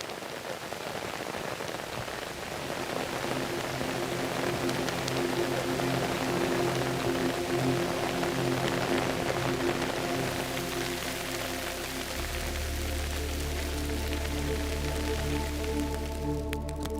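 Steady rain pours down, a dense hiss of drops striking surfaces throughout, with a low rumble joining near the end.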